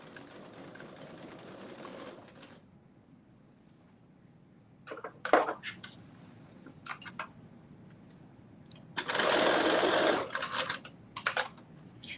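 A sewing machine stitches a facing onto the fabric of a cropped bodice in short bursts, with a longer steady run near the end, separated by quiet pauses and a few clicks of handling.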